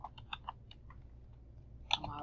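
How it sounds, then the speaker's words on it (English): Someone types on a computer keyboard, a few quick clicks followed by a pause and then another short burst of keystrokes, close and quiet. "And I'm going to type that. All in caps."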